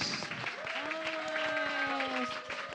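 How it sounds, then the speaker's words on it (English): Applause from a youth leadership event audience, a brisk rapid patter of many hands clapping, with whoops and tonal sounds layered over it. "Woo, more applause for Anna."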